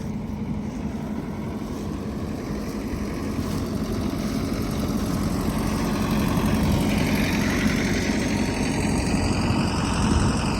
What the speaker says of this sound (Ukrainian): комбайник на мазі. Скільки год працює в умілих руках.